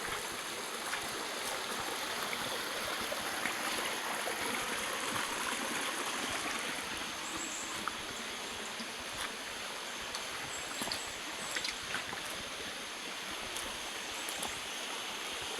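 A creek runs over stones, giving a steady, even rush of water that stays close and continuous from start to finish, with no voices.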